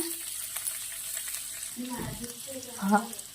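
Onion fries in hot oil with asafoetida, crushed carom seeds and cumin, giving a soft, steady sizzle that swells briefly near the end as it is stirred.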